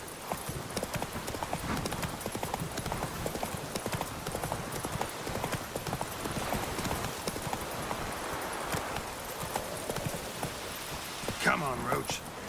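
A horse's hooves clip-clop steadily in the video game Witcher 3, a continuous galloping rhythm with ambient game sound and a brief whinny near the end, while a voice talks over it.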